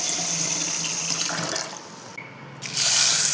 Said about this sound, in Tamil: நெக்ஸ்ட்டு நம்ம எடுத்த அரிசி எல்லாமே வாஷ் பண்ணிக்கோங்க.